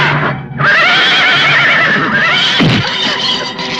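A horse gives one long, loud, wavering whinny that rises and falls, followed by a shorter snort-like call and a faint hoof sound near the end.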